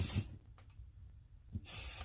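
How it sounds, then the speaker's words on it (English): Pixie Spray adhesive sprayed onto the back of a card piece: two short, close aerosol hisses, one at the start and one at the end, with a quiet pause between. "I'm going to pixie spray the back of this little booger too, right?"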